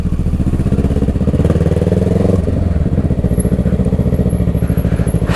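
Motorcycle ridden on a road, its engine a steady loud throbbing drone close by, with a slight shift in tone partway through and no voices.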